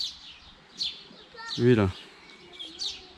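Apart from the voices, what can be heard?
birds chirping outdoors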